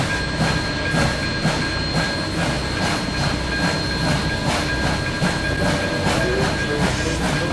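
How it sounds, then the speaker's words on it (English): A long, heavy merchandise freight train running out of Pittsburgh, giving a dense, continuous rolling roar with steady rhythmic wheel clatter and faint high squeal, loud and close throughout, with no voices. "Then he departed Pittsburgh with his long and heavy merchandise train."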